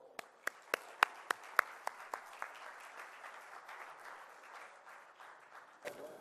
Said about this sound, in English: So please, one more round of applause and then we let these gentlemen go.